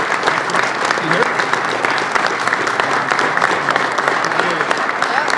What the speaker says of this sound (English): it's good we gave him a big round of applause